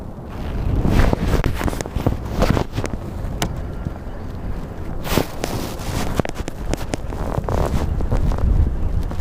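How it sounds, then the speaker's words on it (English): Strong wind gusting around 14 knots buffets the microphone on San Diego Bay with constant low rumbling and gusty surges, mixed with faint outdoor clatter near water. "The wind is whipping."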